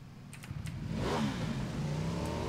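A motorcycle in PUBG starts and revs up, the engine note rising and holding as it pulls away, loud and close with a few faint clicks at the start.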